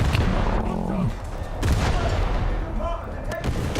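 Ship being blown up in a naval battle video game: heavy booming detonations and rumbling blasts in quick succession, loud and close, with a voice speaking briefly alongside.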